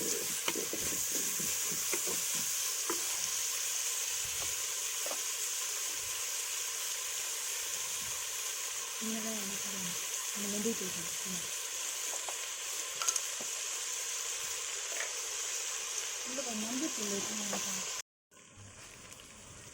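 Onion being stirred and sautéed in a pan for fish kuzhambu, a steady hissing sizzle with faint scattered spoon scrapes throughout, cutting off abruptly near the end.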